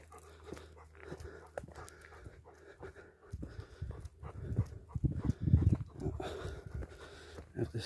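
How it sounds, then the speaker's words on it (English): A man's heavy, rhythmic panting breaths, very close, after walking up a hill on an early morning walk along a country road in Ireland, loud and ragged with no talking. "You probably hear me breathing like a fucker."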